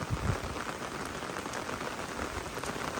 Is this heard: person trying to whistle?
no